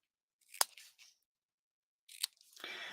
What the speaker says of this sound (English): So I'm just going to first cut my tails,